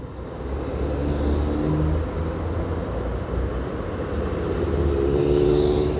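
Heavy car traffic in Natal, heard from a moving motorcycle, makes a steady, loud roar of engines and wind that continues without a break.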